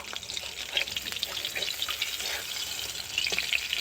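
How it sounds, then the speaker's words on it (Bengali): A fish head fries in hot oil for a fish-head cabbage dish, giving a steady close sizzle with crackling pops throughout and no talking. "মাছের মাথাটা আমি লাল করে ভেজে নিয়েছি"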